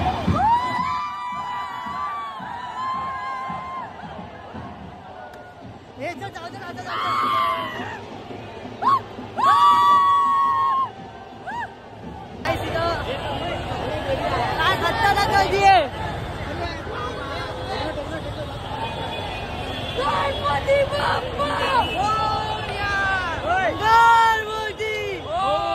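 Dense festival crowd at a Ganpati arrival procession in Lalbaug, Mumbai, with constant hubbub, whoops and cheering, whistles and bangs, while people talk nearby throughout.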